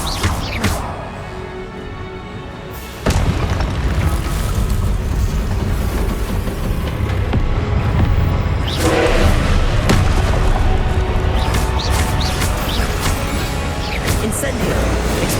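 Incendio and Expelliarmus spells cast in Hogwarts Legacy, heard as loud, dense booms and crashing blasts in a continuous barrage after a brief quieter opening, with further bursts layered on top.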